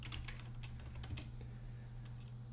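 Keys tap on a computer keyboard in a quick, uneven burst of soft clicks, close and quiet over a low background hum.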